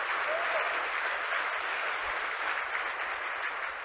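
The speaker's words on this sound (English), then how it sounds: "So everyone, let's give him a round of applause." An audience at a conference keynote's closing remarks gives a round of applause, dense, even clapping from many hands that holds steady from start to finish with no voices over it.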